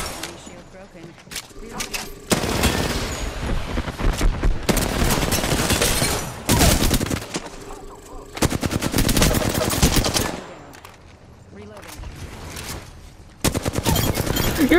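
Bursts of rapid automatic gunfire and single shots from a first-person shooter game, loud and close, coming in several long volleys separated by short pauses, with players talking over the action.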